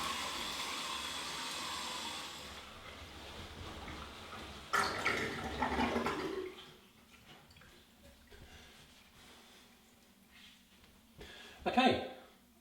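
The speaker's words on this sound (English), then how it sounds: "So a hot rinse and then a cold rinse" Water runs steadily from a sink tap for a hot then cold face rinse, a continuous close hiss at first, followed by a shorter louder gush a few seconds later and faint splashes and handling sounds afterward.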